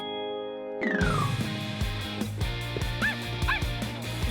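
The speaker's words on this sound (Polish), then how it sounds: "Jestem pewna, że słyszałam szczeknięcie." Cartoon dog yipping and barking in a rapid, high-pitched series of short woofs and whimpers over a bright, bouncy animated music score.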